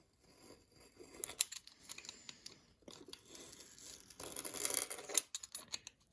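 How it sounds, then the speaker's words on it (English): A razor blade slices and scrapes through paper in short, quiet strokes with soft crinkling, close by and fairly faint. "I have a razor blade, so I'm just going to use that"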